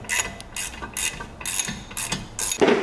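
A ratchet clicks in short bursts while tightening brake caliper bracket bolts on a Jaguar XJ, several quick rhythmic runs of sharp pawl ticks, close and fairly quiet, with no speech.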